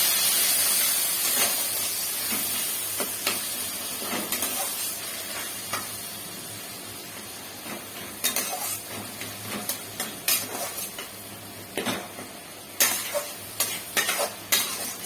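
A sweetened mixture is stirred in a frying pan while preparing a light rohu fish curry, giving a steady oil sizzle with scraping strokes that sharpen into frequent clinks and scrapes in the second half, with no talking.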